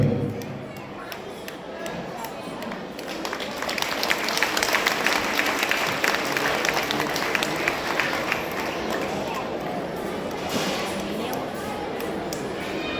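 Audience applause fills a temple hall during a dance debut (arangettam) performance, a sustained mass of clapping rising after a few seconds and holding steady, with voices mixed in beneath.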